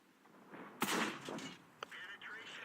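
A tank gun fires in the video game World of Tanks, one loud close boom with a rumbling tail followed by fainter mechanical clanks.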